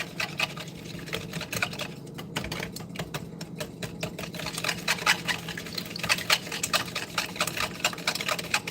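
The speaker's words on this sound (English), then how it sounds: "I'm just gonna whisk these together" Eggs are whisked in a bowl with a rapid, continuous clatter of the whisk against the sides, fairly quiet and steady throughout with no talking.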